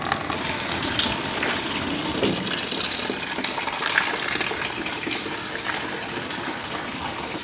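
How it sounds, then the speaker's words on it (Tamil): Tap water running steadily into a container during a morning household cleaning routine, a continuous rushing, gushing flow heard close and alone throughout, with no talking. "நான் ஓப்பன் பண்ணிவிட்டு இந்த டேப்பில் தண்ணி ரொம்பிடும்."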